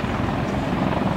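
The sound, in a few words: helicopter manoeuvring at an air show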